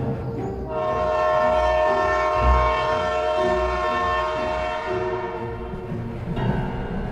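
A steam-style train whistle blares in long sustained harmonic blasts over a rumbling rolling train, used as a sound effect in a Bengali horror audio story; loud and close throughout, with no talk.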